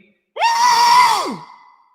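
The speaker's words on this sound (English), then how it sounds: "One is the hand scream. So this is when you cover your hand and scream." A single scream is muffled by a hand pressed over the mouth. It starts suddenly, holds as a strained, wavering cry for about a second, then drops in pitch and fades, close and alone.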